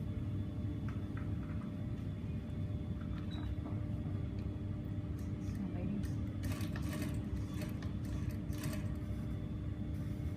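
A sewing machine stitching a 1 cm seam allowance on a lined skirt's waist seam, heard as a low, steady motor whirr from start to finish, with brief higher rattles in the later part.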